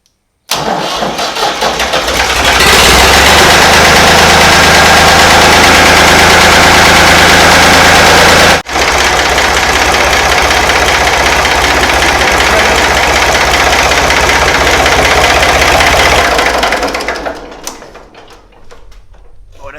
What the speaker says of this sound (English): She cranked right up after I got the starter on right